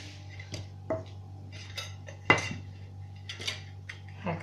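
Metal quiche and tart molds clink and clatter as they are picked up and set down, a series of light metallic knocks over a steady low hum in a quiet kitchen.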